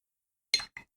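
A watercolour paintbrush is rinsed in a glass water jar, tapping the rim in two quick, bright clinks close by, the second softer than the first, with silence around them.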